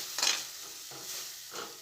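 A spoon stirs green garlic curry in a pan with a soft sizzle. Three short scraping strokes come close together with light frying hiss between them, and nobody speaks.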